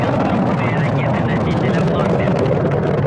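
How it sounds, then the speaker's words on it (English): Soyuz rocket booster engines roaring at launch from Baikonur as the vehicle heads downrange, a loud, continuous broadband rumble with crackling texture, steady throughout with no pauses. "Engine performance nominal as the Soyuz heads downrange."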